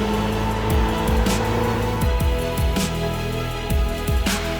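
McLaren 570S sports car with a 570-horsepower rear-drive engine, loud and close throughout, its revs rising and falling in repeated quick sweeps as it drives, with no talk.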